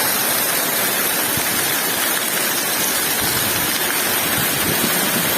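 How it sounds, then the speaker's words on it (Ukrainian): Hail pours down on agrofibre covering a cabbage garden in Lviv region, a dense, constant hiss and patter of countless impacts close by, steady and loud throughout with no talk. "град б'є добре"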